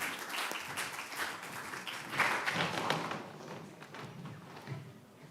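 An audience claps for a speaker at an oceanography talk, a dense, even patter of many hands that swells briefly and then tapers off, heard alone without voices.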